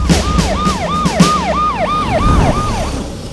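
An ambulance siren wails in a Telugu movie scene, a loud, close, rapidly rising and falling two-tone cycle repeating steadily with no talk over it.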